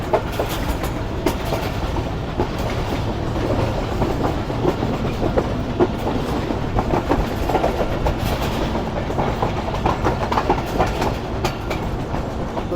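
Rolling through dense winter fog, a train rumbles steadily with rhythmic wheel clatter on the rails, heard from inside the carriage, loud and continuous, with no voices.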